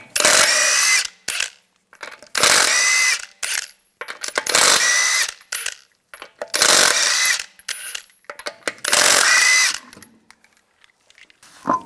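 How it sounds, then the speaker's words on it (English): Impact wrench with a 21mm socket spinning lug nuts off a Hyundai Sonata front wheel: five loud, close bursts of power-tool whirring, each about a second long, separated by brief pauses and small clanks, with no speech. "To remove the wheel, we're going to use a 21mm socket and take the lug nuts off."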